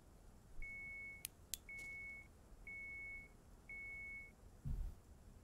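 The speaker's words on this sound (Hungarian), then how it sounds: "Nem értettem, hogy miért hallom sípolni a botokat" Electronic bite alarm on a fishing rod during a burbot fishing trip, giving four steady, evenly spaced high beeps, each lasting about half a second, against quiet background, with a couple of sharp clicks and a low thump near the end.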